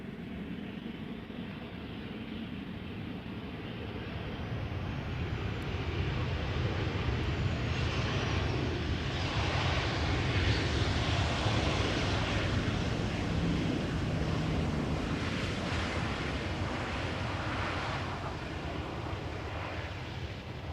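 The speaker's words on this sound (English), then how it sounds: "In the meantime, another 747 arriving from Bjerke." Boeing 747 arriving at Amsterdam Schiphol Airport, a broad roaring jet rumble that swells and holds steady at a distance, mixed with wind noise and no voices.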